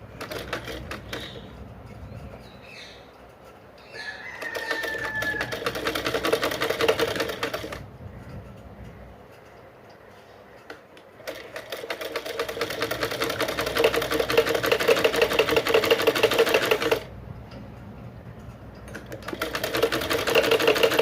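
Sewing machine running a straight seam on a baby frock made from waste cloth, loud mechanical whirring in two long bursts separated by quieter pauses with lighter handling noise.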